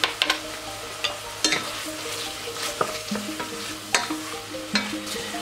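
Shallot sizzling in a pan with chanterelle mushrooms, a steady close fry with scattered crackles and a few spoon-and-pan clinks from stirring.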